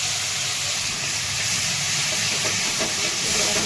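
Onion paste sautés in hot oil with coconut and garlic for a village-style chicken kala rassa, giving a steady, loud hiss that fills the whole stretch.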